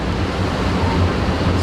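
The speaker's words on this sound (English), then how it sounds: "The waves are firing." Ocean surf breaks at Waikiki, Hawaii, a continuous broadband roar of waves with wind rush, steady and loud, with no voices over it.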